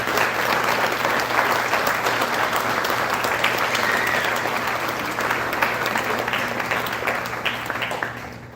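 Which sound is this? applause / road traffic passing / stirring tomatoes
applause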